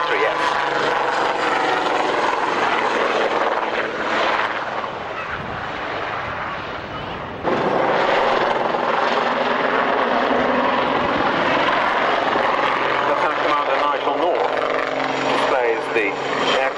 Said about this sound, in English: equipped with this, Westland Aerospatiale Lynx HAS